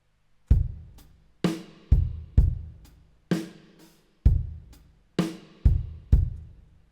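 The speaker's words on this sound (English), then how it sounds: "So this is where we bring in our drums." EZdrummer 3 gospel kit on the Modern Chesty and Tight preset playing a steady drum pattern: punchy kicks and snappy snare hits alternating in a relaxed groove, each with a short decaying tail, loud and dry with no talking.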